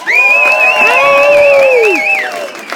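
A stand-up comedy audience in Steamboat cheers loudly, sustained wavering whoops rising and falling over a few seconds of crowd noise.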